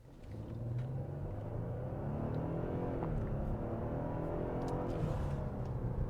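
A 2025 Genesis G90 twin-turbo 3.5-litre V6 engine idles and then revs up, a low smooth growl rising and falling in pitch, steady and fairly close, with no talking.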